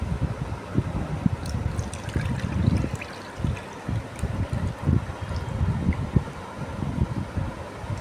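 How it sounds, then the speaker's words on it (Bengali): Milk for sweet red curd (misti doi) pours steadily into a hotpot, a continuous liquid trickle and splash close by for about eight seconds, with no talking. "এবার আমি এইটাকে হটপটে ঢেলে দেব দুধটা।"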